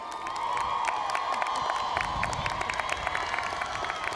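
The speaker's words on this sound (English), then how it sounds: "Graduates, please join me in a great round of applause as I ask to stand the extraordinary faculty and staff." A graduation commencement crowd applauds faculty and staff, sustained dense clapping with scattered cheers and whoops filling a large space, steady throughout with no speech.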